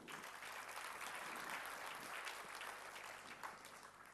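A church congregation claps together in a sustained, even burst of applause, a broad crowd sound heard alone without speech.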